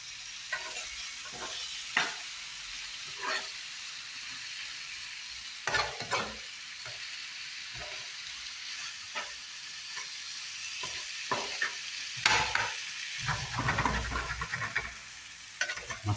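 Beef curry being stirred in a pan, with intermittent scraping strokes over a steady sizzle and hiss, close and moderately loud, no talking.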